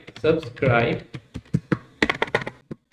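Keys tapping on a computer keyboard as a word is typed into a JavaScript prompt input box, clicks close and in quick bursts, mixed with someone speaking throughout.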